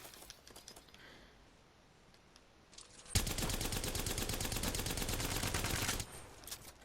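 Havoc rifle fire in Apex Legends, a dense, loud burst of rapid automatic shots that runs for about three seconds after a quiet stretch.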